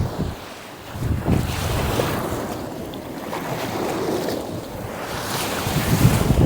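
Atlantic Ocean surf breaking at the shore with gusting wind buffeting the microphone, a continuous broad roar of waves that swells and eases over several seconds, no voices.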